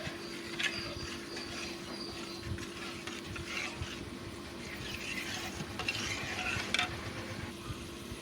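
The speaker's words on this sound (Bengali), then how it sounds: "এখন আমি আর একটু নাড়িয়ে নেব" A spoon stirs rui fish head and mung dal curry in a pan with a steady scraping and soft sizzle, continuous and close, with light clinks of utensil on the pan and no talk.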